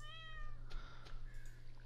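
A short, faint cat meow in Stardew Valley over a low steady hum, followed by a few soft chirpy sounds.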